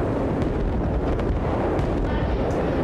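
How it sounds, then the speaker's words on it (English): Mortar strike explosions rumble through a Battlefield Bad Company 2 match, a continuous loud low-end barrage of blasts with no clearly separated impacts. "That's the mortar strike, which you can use to summon mortar strikes on places anytime."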